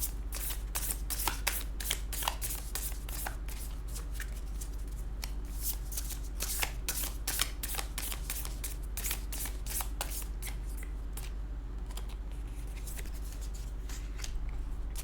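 Moonology oracle cards are shuffled close up in a continuous run of crisp riffling and flicking bursts, with no talking.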